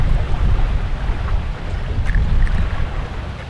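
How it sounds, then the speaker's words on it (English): Strong wind buffets the microphone with a constant low roar, with rough river water churning underneath where the Welland River meets the Niagara River. "we're in a super windy spot with super crazy water right now"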